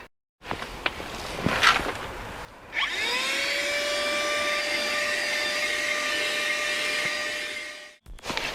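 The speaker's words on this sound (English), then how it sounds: "then we'll get the hoover out." A Hoover vacuum cleaner runs inside a 1997 BMW Z3 after a few bumps and knocks, spinning up to a steady loud whine with a droning tone that holds for about five seconds before cutting off.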